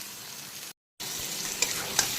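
Prawns cook with spices in a pan, giving a continuous close sizzle with stirring scrapes and a couple of sharp utensil clinks, broken once by a brief silent gap, with no talk.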